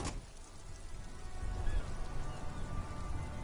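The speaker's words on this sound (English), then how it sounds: "All around you, rain falls on the great city of Revachol." Steady rain falling over the city of Revachol in a video game, a soft continuous hiss and patter with a low rumbling undertone throughout.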